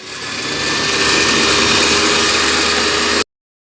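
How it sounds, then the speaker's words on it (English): A power saw rips lengthwise through a 2x4 board while cutting bee frame parts, a steady loud whining buzz that holds evenly for about three seconds and then stops abruptly. "I'm just going to clamp the fence and then rip the"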